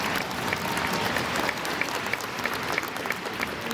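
A crowd at the Syosset High School commencement ceremony gives sustained applause for the graduating class of 2023, a thick, even wash of many hands clapping with occasional louder individual claps.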